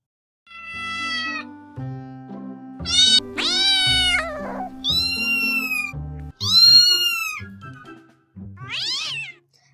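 A cat meows several times in a row, each call bright and drawn out with rising and falling pitch, close and clear over a soft musical backing, with brief pauses between calls.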